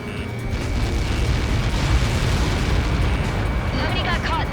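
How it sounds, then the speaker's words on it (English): A missile explosion in the video game Ace Combat 7, a loud sustained rumbling blast with roaring debris noise filling the whole stretch, ending in faint crackling. "How many got caught in that explosion?"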